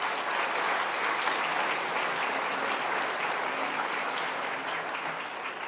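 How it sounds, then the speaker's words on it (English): Sustained applause from a high school awards ceremony audience, many people clapping in a thick, continuous wash that stays loud and fairly even throughout, fading only slightly toward the end, with no speech. "Let's give them all a round of applause."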